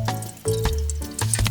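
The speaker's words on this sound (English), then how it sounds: "Pour in 250 ml of water." Short pour of 250 ml of water into a camping pot at a freezing winter wild camp in a Scottish forest, a close, splashy gurgle that starts abruptly and runs on briefly.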